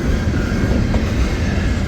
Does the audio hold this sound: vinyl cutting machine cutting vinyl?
no